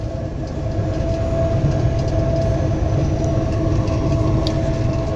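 Train passing at a train yard in Clovis, New Mexico, a loud, steady, close rumble of rolling wagons with faint rhythmic clatter, lasting throughout.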